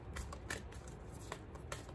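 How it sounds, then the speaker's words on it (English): Tarot cards are shuffled by hand in quick, soft riffling bursts, a papery flutter repeating at a steady rhythm, quiet and close with no voices. "I usually like to shuffle it a little bit longer"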